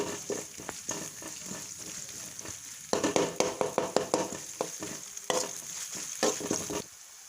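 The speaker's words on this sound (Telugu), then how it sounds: "వన్ స్పూన్ అల్లం వెల్లుల్లి పేస్ట్ ఇది ఒక వన్ మినిట్ ఫ్రై కానివ్వాలి" Ginger garlic paste fries and sizzles in a pan while pav bhaji is cooked, with a steady hiss and a quick run of spoon-scraping stirs that grows louder midway and stops near the end.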